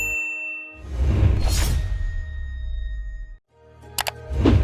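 A bright metallic ding rings out twice near the end, each strike short and sharp, following a louder whooshing, clanging swell; no voices.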